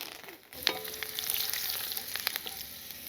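Cumin, chana dal, urad dal, garlic cloves and curry leaves sizzle in hot oil, starting with a sudden crackling burst and then a steady spattering hiss with small pops, close and alone.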